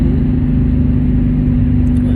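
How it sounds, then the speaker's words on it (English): Steady hum of a car engine holding a constant speed on cruise control, a continuous low drone with road noise that stays even throughout, with no revving or shifts. "y'all gonna hear my car doing what it need to do to keep at a certain speed"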